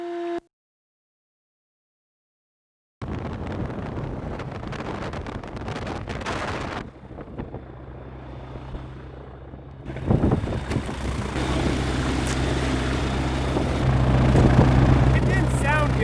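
A small airplane's propeller engine keeps running on the ground after an emergency landing, a steady loud drone with low harmonic hum throughout, briefly cut off near the start, with people talking over it outdoors.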